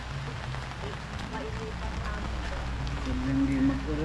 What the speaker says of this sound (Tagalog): At umuulan na nga